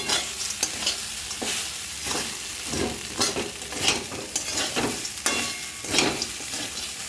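Chira pulao with nuts stirred in white oil in a pan: a continuous sizzle with repeated scraping strokes of the spoon in an uneven rhythm, close and fairly loud.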